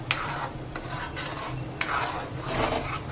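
Steady scraping and stirring of a large batch of creamy white sauce pasta with black pepper in a big pot, a continuous rasping swirl with occasional utensil knocks, close and without speech.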